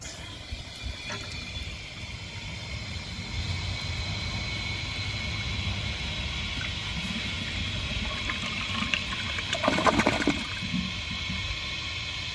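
A 1991 Kohler San Raphael toilet flushes with a long steady rush of water and gurgling, swelling into a louder surge near the end as the bowl drains, heard alone.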